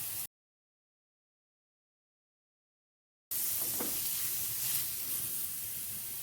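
Crushed garlic sautéing in oil in a pan while a creamy mushroom dish is being made: a soft, steady sizzle and hiss close by, after a brief cut to silence, with faint stirring scrapes.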